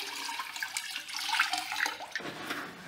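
Water splashes and runs steadily over the body of a 2015 Chevrolet Silverado 2500HD, rinsing off rust repair product, a close continuous gushing flow with brief shifts in intensity.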